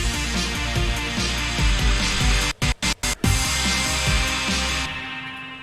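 Dense electronic music builds up, then drops out completely in four quick, rhythmic master-volume cuts of silence before resuming full and loud.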